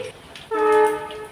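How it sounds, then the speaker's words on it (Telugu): A train horn blares in a sustained, steady tone after a brief quieter moment, fairly close and loud, as a train passes near a station. "పక్కన స్టేషన్ ఉంది కాబట్టి ట్రైన్లు వస్తున్నాయి"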